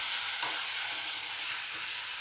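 Chopped tomatoes sauté in oil with ginger-garlic paste in a pan for a poached egg gravy, giving a steady, close broadband sizzle with faint stirring scrapes throughout.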